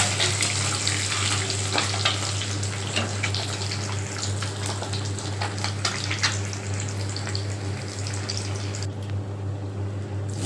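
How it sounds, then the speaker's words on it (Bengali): Boiled eggs fry in oil in a wok, a continuous crackling sizzle with small pops that runs steadily for several seconds before thinning out near the end, close-up with a low hum beneath. "তারপরে কড়াইয়ে তেল দিয়ে ডিমগুলো খুব লাল লাল করে ভেজে নেব।"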